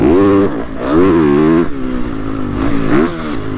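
A motocross motorcycle on a timed lap, its engine revving loudly and close, pitch rising and falling through repeated throttle bursts with a brief drop between them.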